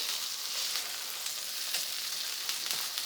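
Small minced beef steaks frying in a pan, a constant bright hissing sizzle with occasional crackles and spatters, close up and uninterrupted by voices.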